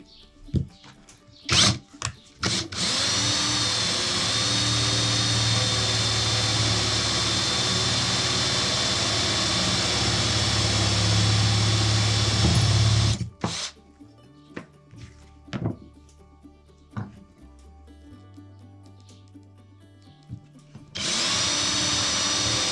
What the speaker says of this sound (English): I have my drill already set up. I'm using a spade bit.